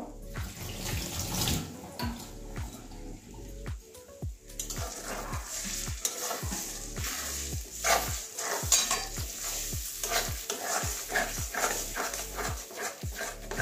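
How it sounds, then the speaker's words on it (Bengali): A spoon or spatula works thick lentil paste for dhokar dalna around a pan over low heat, making a rapid, regular series of wet scraping strokes, loud and close, with no talk over it. "অনবরত এটা নাড়াতে হবে, না হলে লেগে যাবে"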